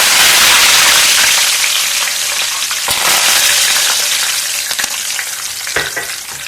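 Curry leaves fry with peanuts in a pan, giving a loud, steady sizzle with crackling pops that eases slightly toward the end.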